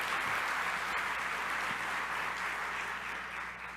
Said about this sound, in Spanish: Pido un aplauso para Jorge